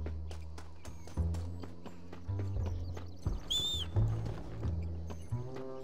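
Clip-clopping hooves beat in a steady rhythm, a horse whinnies once in the middle, and faint low game ambience plays underneath, in Red Dead Redemption.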